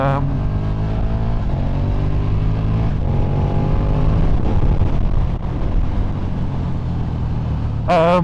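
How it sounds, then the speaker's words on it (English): A 2019 KTM Super Duke GT motorcycle engine drones and revs with changing pitch as it shifts down through gears without the clutch, its auto blipper blipping the throttle, close and loud, with a rider talking over it. "Downshifter works perfectly fine, so just downshift it there without the clutch. The auto blipper works fine"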